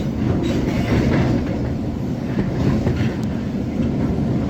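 A Kolkata Metro train runs on an elevated track near Dum Dum with a loud, steady, close rumble and faint rhythmic wheel clatter.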